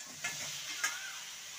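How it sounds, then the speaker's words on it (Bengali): Spiced pointed gourd and potatoes fry in a pan over lowered heat, giving a soft, steady sizzle with two brief stirring scrapes. "পাওয়ার কমিয়ে কমিয়ে ভেজে নেব, যেহেতু পটল মশলা ফ্রাই।"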